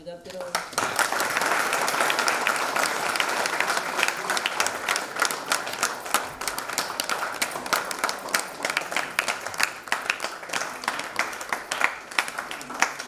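Audience at a one-day company leadership training event in Rampur clapping steadily throughout, dense sustained applause filling the room with no pause.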